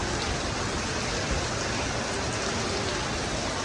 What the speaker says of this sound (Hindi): ये खूबसूरत इतनी प्यारी बारिश हो रही